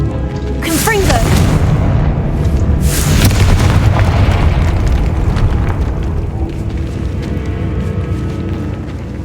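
A Confringo spell explodes in the game Hogwarts Legacy: a loud booming blast followed by a roaring, crackling rumble that stays heavy for several seconds.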